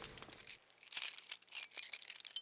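Glass of water being handled: light clinks and small glassy rattles after a brief quiet start, close and fairly faint, with no talk.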